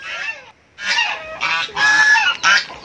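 Native chickens squawk and cackle loudly in a farmyard, several harsh bursts following one another with a short gap near the start, close to the listener and with no talk over them.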